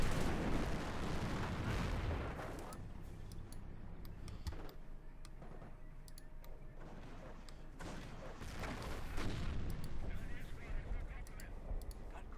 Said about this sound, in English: More artillery fire.